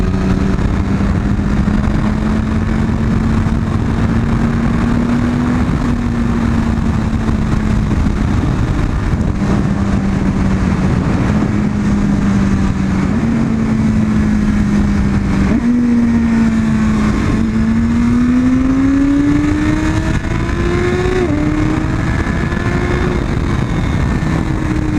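A motorcycle engine on a ride aboard Nimbus drones loudly and steadily, its pitch dipping and climbing through several throttle changes before surging higher near the end, with constant wind roar.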